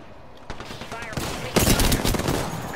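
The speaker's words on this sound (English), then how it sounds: "Oh, I was shooting you." Bursts of gunfire in a shooter video game, building from scattered shots into denser rapid fire over the last second, with a player's voice faintly under it.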